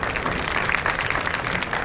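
An audience at a devotional singing event breaks into dense, continuous applause, many hands clapping together and sustained throughout.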